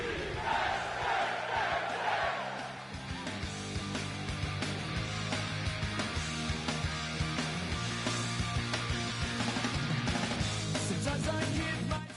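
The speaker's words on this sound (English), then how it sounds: "sellout crowd has arrived at Paycor Stadium in Cincinnati" A sellout stadium crowd roars at Paycor Stadium in Cincinnati before a football game against the Jets, a dense, continuous wash of cheering and chanting that holds steady throughout with music layered underneath.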